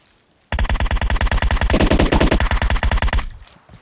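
Rapid automatic gunfire in the PUBG Mobile video game on the Erangel map, a sustained burst of evenly spaced loud shots lasting almost three seconds before stopping abruptly, with a faint tail afterward.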